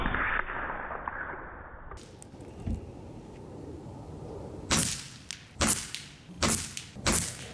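Air Arms TX200 .177 spring air rifle firing: a quiet stretch, then four sharp, close, loud shot cracks over the last few seconds, each a short percussive snap, with no talking.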